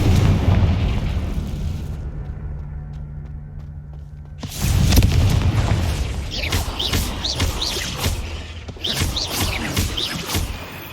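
Confringo explosive spells go off in Hogwarts Legacy: a loud, rumbling fiery blast rolls out, then another burst and crackling debris follow amid layered game effects.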